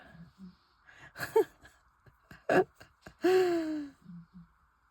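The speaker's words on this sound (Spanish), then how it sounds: "Está roncando muy fuerte." Sleeping person snoring loudly, with rough rasping breaths close by and a long drawn-out snore near the end, heard in a quiet room.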